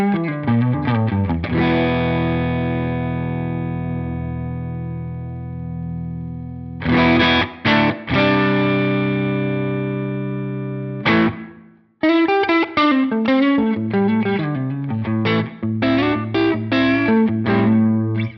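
Electric guitar played through a Line 6 Helix preset with heavy distortion and reverb, sustained chords ringing out with long decaying tails, then a quick burst of choppy riffing.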